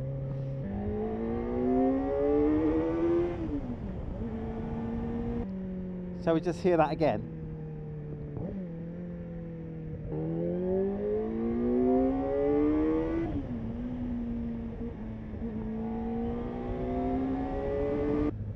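Kawasaki ZX-4RR motorcycle pulling from 20 mph in second gear at about 4,500 rpm, its engine note climbing in several rising sweeps as it accelerates, heard close while a rider talks over it.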